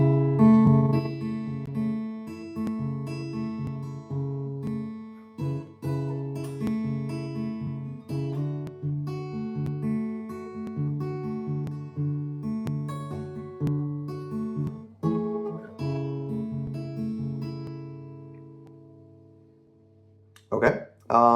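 Slow guitar chord progression, sustained strummed chords ringing steadily for about twenty seconds with brief pauses between changes, played alone without talk.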